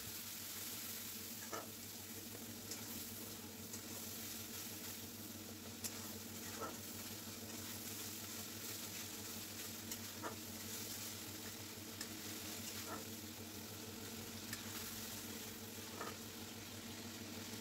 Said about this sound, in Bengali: সমস্ত মশলা দিয়ে এখন সুন্দর করে নেড়েচেড়ে মশলাটা আমি কষিয়ে নেব